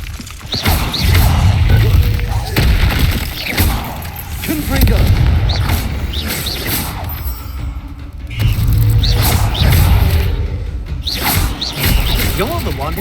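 Confringo fire spell blasts going off in Hogwarts Legacy, heavy booming bursts recurring in a loud, dense game mix with repeated impacts and crashes, voices speaking over parts of it.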